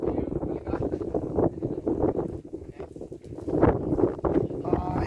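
Gusty wind at Pawa Mangrove Park buffets the microphone with a constant rumbling roar, loud and close throughout.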